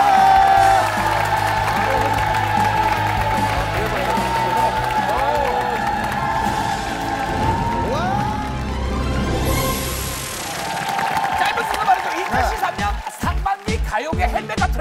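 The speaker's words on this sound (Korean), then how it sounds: "오늘 멋진 무대를 보여주신 수리양이 여러분들의 큰 박수가 필요합니다" Crowd applause and cheering after a stage performance on a TV variety show, with clapping and whoops rising and falling under loud music and sound effects, ending in sharp rhythmic beats.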